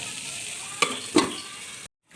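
Fried potatoes stirred together with spice masala in a pan, a steady low sizzle broken by two sharp scraping knocks of the spoon before the sound cuts to silence.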